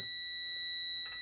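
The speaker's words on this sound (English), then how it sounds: "And it's got an automatic beep feature going on there" A Tesmen TM-510 multimeter sounds its continuity test beep, a steady piercing high electronic tone held without a break across the whole moment, close and clear with no talking over it.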